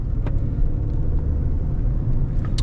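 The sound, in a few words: 2000 Ford Ranger 4x4 truck driving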